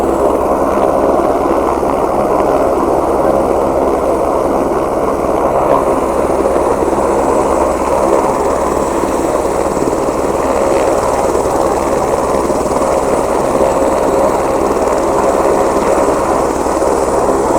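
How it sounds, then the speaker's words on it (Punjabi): A steady, loud helicopter rotor and engine drone continues without break nearby, at a helipad on the Hemkund Sahib pilgrimage route near Govindghat. "ਹੁਣ ਦੁਬਾਰਾ ਹੈਲੀਕਾਪਟਰ ਉਡੂਗਾ ਤੇ ਹੈਲੀਕਾਪਟਰ ਜਾਊਗਾ"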